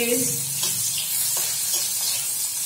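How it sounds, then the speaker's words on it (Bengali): Onion and green chili sizzle in hot oil while being stirred, a steady close frying hiss with a few scraping strokes and no voices. "অল্প পেঁয়াজ দিয়ে দিচ্ছি, একটু কাঁচা লঙ্কা দিয়ে দিচ্ছি, নেড়ে দিচ্ছি"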